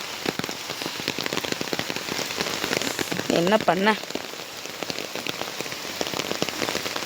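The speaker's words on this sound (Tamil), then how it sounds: "மழை விடுற மாதிரி தெரியலை ஒன்றும்." Heavy rain pours down in Kumbakonam, a dense, steady hiss of drops pattering on surfaces throughout, with someone briefly speaking midway.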